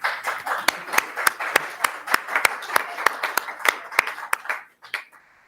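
Applause at a school district board meeting, with sharp, distinct claps in a steady rhythm from a small group, some voices and cheering mixed in, before it fades out and stops.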